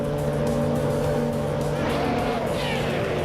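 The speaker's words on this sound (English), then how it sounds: "August Wolfie is starting on pole in the 1996 Benetton B, 196 at Sepang" 1996 Benetton B196 Formula One car at Sepang in a racing video game, a steady high-pitched engine drone held loud and continuous throughout, with no talk over it.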